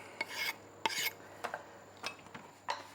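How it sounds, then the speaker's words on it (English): Fresh thyme leaves scraped off their stems into a pot of beans for a Caribbean rice dish, a handful of short, dry rasping strokes spaced apart, close and fairly soft, with no talk. "And some thyme, some fresh thyme, and I'm just going to scrape that into the beans."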